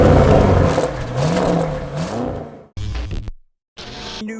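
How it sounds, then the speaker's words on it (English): An Audi RS6 engine and exhaust rev loudly nearby, the pitch rising and falling in a throaty roar before it cuts off, followed by short bursts of other sound with brief silence between them. "Audi definitely did something with the exhaust because it sounds really good"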